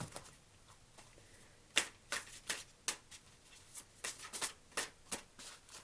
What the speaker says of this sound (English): One more successful shuffle.